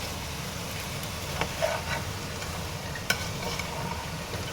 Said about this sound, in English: See, you must mix it like this.